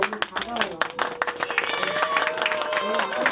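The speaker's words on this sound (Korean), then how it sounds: "큰 박수로 맞이해주세요." A crowd claps in a burst of applause at a kindergarten graduation, with scattered cheers and murmuring voices mixed in throughout.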